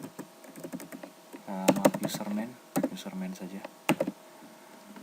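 Someone types on a computer keyboard, with bursts of clicky keystrokes that come and go under a person speaking softly.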